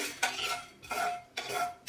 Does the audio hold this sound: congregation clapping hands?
no